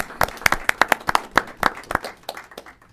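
Sparse clapping from a handful of people at a county commission meeting, sharp distinct claps in an uneven rhythm, close and fairly loud, thinning out toward the end.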